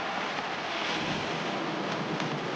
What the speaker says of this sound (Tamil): பாருங்கள், ஃபுல்லாக இங்கே தண்ணி தான் போய்கிட்டு இருக்கு